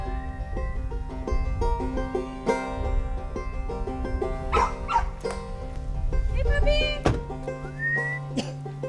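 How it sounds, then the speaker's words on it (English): A black and white pit bull, found in a city after Hurricane Rita, lets out a few sharp barks and whimpering cries over sustained whistle-like tones and low background rumble. "we found this dog, this black and white pit bull"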